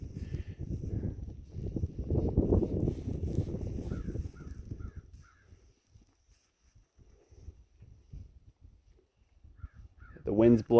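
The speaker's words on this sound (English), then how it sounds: "I guess I hear a crow cawing in my tree line" Caws from a crow in the tree line of a snowy, windy farm come through late and fairly loud, a quick run of calls at the very end, after a stretch of low rumbling and crunching from livestock in the snow.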